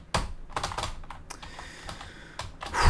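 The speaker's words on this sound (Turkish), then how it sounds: "Klavye sesini de yakıyor" Quick bursts of clicky keystrokes on a computer keyboard, irregular and close, with short pauses between clusters of typing.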